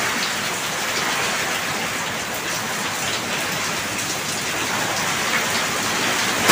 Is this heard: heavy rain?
yes